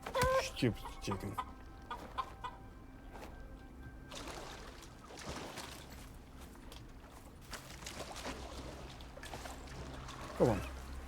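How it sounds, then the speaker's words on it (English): Chicken in the survival video game Icarus, giving a few short clucks at the start and again near the end, moderately close amid quiet ambient game noise. "Stupid chicken."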